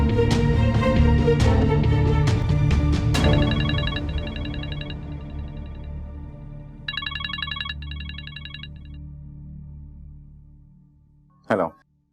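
A telephone is dialed during a drama scene, with short bursts of electronic beeping tones sounding over soft background music and ending in a brief click.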